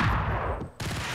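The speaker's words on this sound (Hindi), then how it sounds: "अरे गोलियां पड़ रही भाई बहुत गंदी" Dense gunfire from the Max Payne video game, a continuous rattle of rapid shots that briefly drops away near the end before resuming at full loudness.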